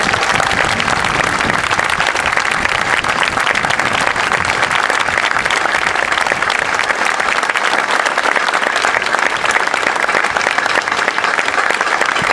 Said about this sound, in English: join me for a warm round of applause and appreciation for our World War II veterans